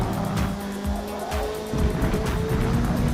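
Race car in Forza Motorsport braking late and dropping gears, with overlapping engine tones shifting pitch and tires squealing, a steady near roar through most of the stretch.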